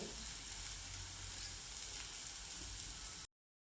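Bitter gourd chutney with jaggery sautéed in a pan, giving a soft, steady close sizzle with faint stirring and one brief clink, no talk.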